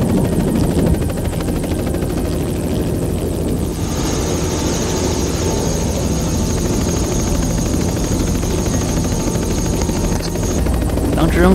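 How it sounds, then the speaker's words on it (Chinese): A helicopter takes off over the sea, its loud steady rotor thump and engine whine continuous and close throughout, with a high turbine tone rising midway. "直升机从海平面上拔地而起的时候，就觉得这决定做对了"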